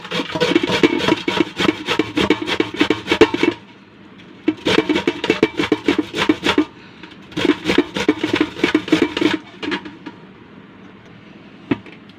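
Bottle gourd being grated by hand on a grater: rapid rhythmic rasping strokes in several bursts with short pauses between, close and fairly loud, no voices.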